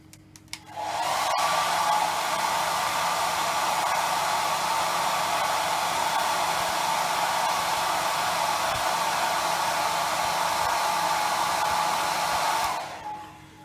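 A heat gun or hair dryer warms the adhesive under an iPhone 7 screen during a screen replacement, giving a loud, steady blowing whoosh with a faint whine that runs unbroken for about eleven seconds before cutting off.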